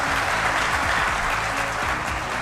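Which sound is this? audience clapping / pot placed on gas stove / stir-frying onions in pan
audience clapping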